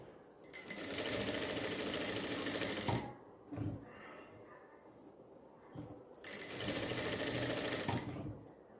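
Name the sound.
sewing machine stitching a blouse back neck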